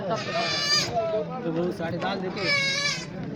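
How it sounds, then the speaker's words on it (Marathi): Goats bleat loudly nearby at the Belhe goat market, two long wavering cries separated by a pause, with people talking underneath. "प्युअर प्युअर बकरी आहेत"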